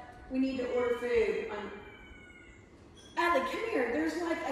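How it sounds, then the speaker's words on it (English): Meowing comes through in two drawn-out bursts, fairly close in a house, with a quieter gap between them and a speaking voice also present. "I keep hearing a cat voice."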